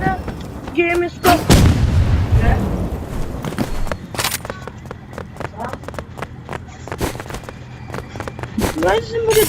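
Gunfire in the Roblox shooter Rivals: sharp shots, some in quick bursts and some single cracks, spread across the clip, with footstep-like thuds between them.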